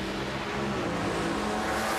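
A drag racing car at the 2012 Gator Nationals TAFC round loses control in the left lane, its engine a loud, steady, dense roar throughout with no talk.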